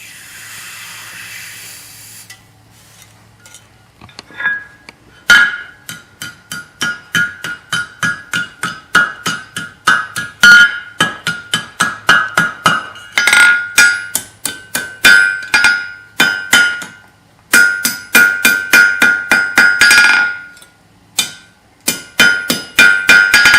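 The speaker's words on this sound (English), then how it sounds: "turn our hook 180 degrees and start bending it on the horn" Hot steel hook is struck with a hammer on an anvil horn, a long series of sharp ringing metallic blows in quick bursts with brief pauses, loud and close, with no talk.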